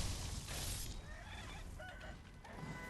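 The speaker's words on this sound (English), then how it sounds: "Poor chickens." Chickens cluck faintly in the Sekiro: Shadows Die Twice video game, short fowl calls set against a dense wash of ambient game noise, with no talking.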